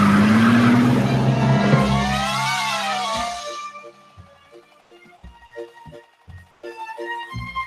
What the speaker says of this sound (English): Want to go see a bear ride a motorcycle?